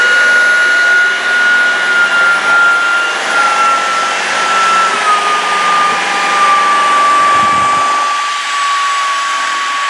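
A Shark Detect Pro cordless vacuum cleaner, model IW3611DE with an automatic emptying station, runs with a loud, steady whine and rushing airflow close up for the whole stretch, with no pauses.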